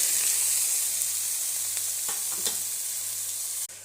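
Chopped ivy gourd, mustard seeds and curry leaves fry in hot coconut oil, a steady close sizzle with occasional stirring scrapes and crackles, ending in a sudden cut.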